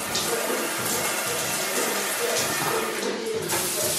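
Water pours steadily from a big shower head in a hotel bathroom in Istanbul, a loud, dense, continuous hiss that fills the whole stretch without letup.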